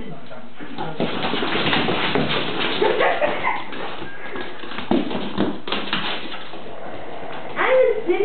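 A Tibetan terrier playing ball indoors, with light taps and bounces, scrabbling and a few short dog whimpers or yips, mixed in with people talking throughout.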